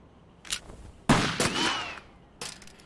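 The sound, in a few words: gunfire in the Yakuza 3 video game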